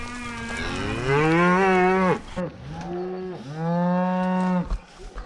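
A herd of cattle being driven to another pasture, with long, loud, close moos, two drawn-out calls one after another and fainter lowing around them.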